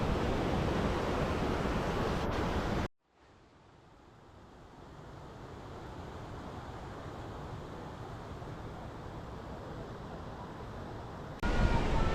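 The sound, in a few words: waterfall rushing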